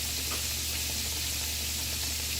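Swiss steak sizzling in a hot pan while pressed down with a spatula, a steady dense hiss and crackle held close and constant throughout, no talk.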